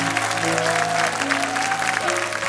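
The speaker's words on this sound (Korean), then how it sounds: "우리 이 세 분들 위해서 다시 한번 뜨거운 박수 부탁드리겠습니다." Congregation at a church youth worship service applauding, a steady, dense wash of clapping hands filling the room without break, with faint tonal background underneath.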